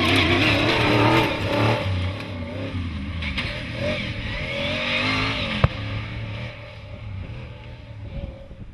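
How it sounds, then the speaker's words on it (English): An RS200 rally car on a special stage roars past with rising and falling engine revs, loud at first and then fading as it pulls away. "And showing good pace once again were Gordon Monaghan and Stephen Matthews in the RS200, 5th place."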